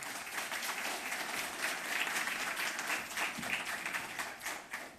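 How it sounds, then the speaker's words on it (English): Audience at an entrepreneurship panel discussion giving a steady round of applause, even and sustained, heard from a moderate distance. "Round of applause, please."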